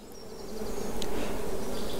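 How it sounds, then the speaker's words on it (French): A honeybee buzzes in a steady, close drone during a beekeeping lesson, growing slightly louder as it goes, with no talk over it. "ici, cette abeille."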